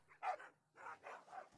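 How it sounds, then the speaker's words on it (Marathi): Several short dog barks and yelps in quick bursts, fairly faint, with brief gaps between them, as if dogs are scuffling a short distance away. "चार कुत्रे एका कुत्र्याला चावत होते"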